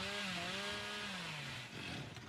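A chainsaw revs in the Dead by Daylight video game, a steady droning whine that slides slightly downward in pitch, continuous and fairly quiet with no talk over it.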